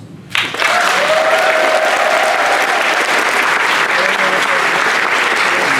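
Sustained applause from a large audience at a fan convention, starting abruptly and holding steady, loud and dense throughout.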